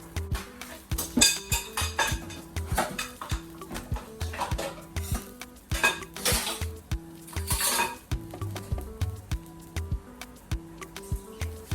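Pancake batter scooped from a mixing bowl: repeated clinks and scrapes of a utensil against the bowl in an uneven rhythm, close and fairly quiet, with no talking.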